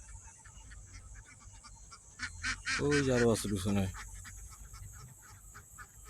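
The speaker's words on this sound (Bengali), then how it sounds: "ওই যে হাঁস আসতেছে" A few loud honking quacks from ducks on a river burst out midway against a quiet outdoor background, briefly overlapping a person's voice.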